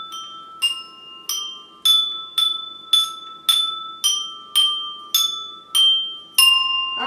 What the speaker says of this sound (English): so what was our mystery song? Mary had a little lamb.